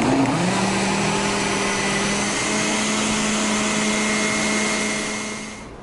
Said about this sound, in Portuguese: Colocou tudo no liquidificador. Você vai bater,